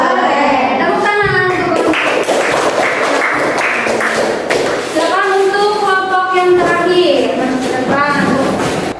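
A group of people in a classroom applaud in a steady patter of claps that runs under a voice as she speaks over it.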